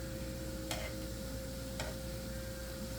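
Shrimp sauteing in a pan before going into a sauce gives a steady close sizzle, with two brief sharp clicks of a utensil against the pan.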